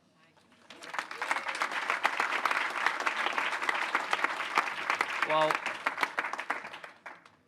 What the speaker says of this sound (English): let's give another round of applause for all these folks that are making a commitment towards the vision